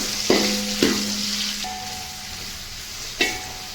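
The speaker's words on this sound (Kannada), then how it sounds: "ಎಣ್ಣೆ ಬಿಸಿಯಾದ ನಂತರ ಈರುಳ್ಳಿ ಮತ್ತು ಹಸಿಮೆಣ್ಸಿಕಾಯಿ 2 ಈರುಳ್ಳಿನ ಕಟ್ ಮಾಡಿ ಇಟ್ಕೊಂಡಿದ್ದೆ" Chopped onions and green chillies fry in hot oil in a pot, giving a steady close sizzle with a few sharp clinks and scrapes of a stirring utensil against the metal.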